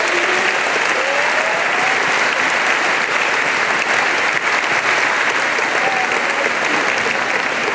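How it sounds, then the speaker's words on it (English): Steady, loud audience applause fills an indoor 8th grade promotion ceremony, continuous and unbroken throughout, with no voices over it. "Please give her a round of applause."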